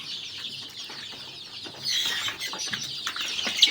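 Native chicks cluck and chirp in a high, busy chorus, getting louder partway through with some wing flutters.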